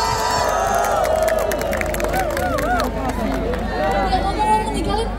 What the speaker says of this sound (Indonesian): Semuanya tepuk tangan dong untuk The Sounds Project.